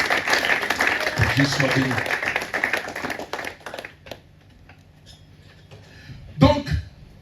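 A church congregation claps and applauds during a Sunday service, a brief ripple of hands rising under a preacher's speech and fading out.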